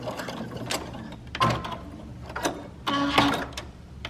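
A sewing machine tacks elastic onto a face mask, going over the spot a couple of times: loud, close mechanical clatter of the needle running in short bursts with brief pauses between passes.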